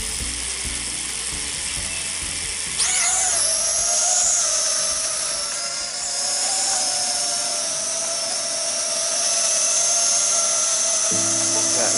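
A Dwellion D10, a budget FPV camera drone, spins its motors up sharply about three seconds in and then holds a steady, close, high-pitched buzzing whine as it takes off and flies.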